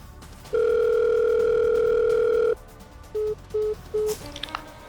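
A steady telephone dial tone hums loud and alone for about two seconds after a call is cut off, followed by three short beeps and a brief trailing tone.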